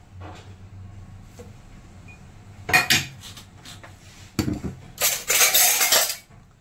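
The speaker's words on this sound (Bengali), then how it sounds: "এই কাপের জায়গায় রাখি এখন।" Cups, spoons and a tea strainer are set back in their kitchen place: a few scattered clinks, then a louder, bright clatter of metal and crockery close by, with no talking.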